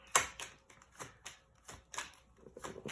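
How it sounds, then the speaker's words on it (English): Crisp, irregular riffling and slapping of tarot cards being shuffled by hand, close up, with short bursts and taps and no talking. "Doing some shuffling. Every day I'm shuffling."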